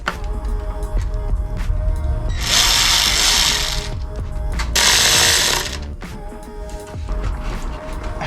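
Mechanical ratcheting and tool work while tightening the lower clamp on a boost pipe of a BMW E46 320d, close and fairly loud, with two longer bursts of harsh noise in the middle and steady clicking throughout.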